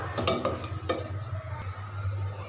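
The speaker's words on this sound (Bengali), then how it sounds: "এবার মিশ্রণটা ভালো মতো কষিয়ে নেব" A khichuri spice mixture with coriander paste is stir-fried in a pan, with a soft sizzle under repeated scraping strokes of a spoon and a low steady hum beneath, fairly quiet and without speech.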